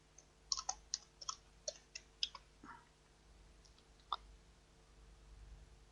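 Light clicking keystrokes on a computer keyboard, a quick run of separate taps followed by a pause and one more click, faint and close over a quiet background hum.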